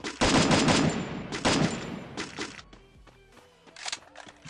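Rapid bursts of automatic gunfire from the Free Fire video game, loud and dense at first, then thinning into scattered shots and sharp clicks, with no talking.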